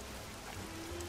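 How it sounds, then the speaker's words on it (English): Rain falls in the Bee Movie video game, a steady soft hiss of drops with a faint low tone underneath, continuous and fairly quiet with no voices. "Take cover! It's raining!"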